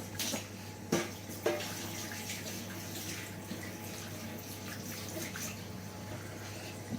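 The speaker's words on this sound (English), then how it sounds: "I'm going to get my chef's knife and I'm going to run it under some water" Running tap water pours steadily as a chef's knife is rinsed in a kitchen during a party platter cooking class. It is a continuous, moderately quiet splashing stream with a few brief clunks early on, and no talking.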